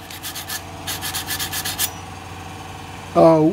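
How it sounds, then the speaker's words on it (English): A kitchen knife is drawn through a knife sharpener in two quick bursts of rhythmic gritty rubbing strokes, close and clear, followed by a short pause and a brief unrelated tonal sound. "This is called knife sharpener."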